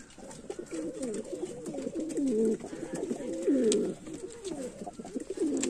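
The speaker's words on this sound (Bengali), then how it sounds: "দেখতে থাকো পায়রাগুলো" Pigeons in a loft cooing in close, repeated throaty phrases that rise and fall over several seconds, with no one talking.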